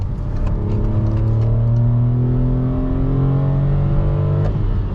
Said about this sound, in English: So well done, little Toyota Aygo. It does handle well around those corners.